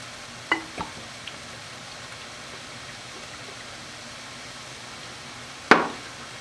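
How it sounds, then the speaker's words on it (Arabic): Utensil stirring a potato tortilla mixture of egg, onion, meatballs and potato in a pan, a low steady sizzle punctuated by a few sharp clinks against the pan, one louder near the end. "نحركو الكل مزيان"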